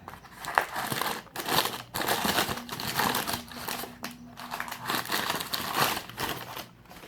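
Crinkling and rustling of a Who Gives a Crap bamboo toilet paper package being opened up close, a continuous run of loud crackly crumples and tearing bursts with no talking.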